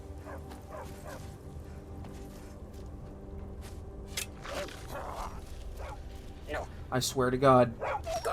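Dog companion in Skyrim yipping and whimpering near the end, a brief burst of close whines over a steady game backdrop while someone talks throughout.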